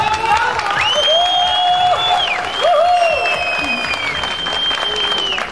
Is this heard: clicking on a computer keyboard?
no